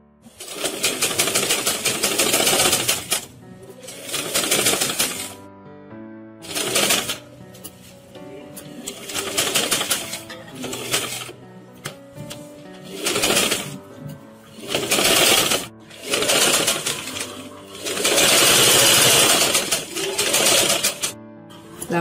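A sewing machine stitches an umbrella frock in repeated loud bursts of rapid mechanical whirring, each run lasting a second or two and separated by brief pauses.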